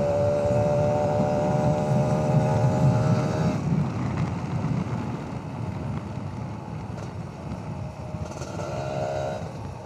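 Kawasaki RR150 motorcycle on the move, a constant engine drone mixed with heavy wind rush, and the engine note shifts partway through the ride.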